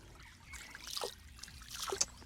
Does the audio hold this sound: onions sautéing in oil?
no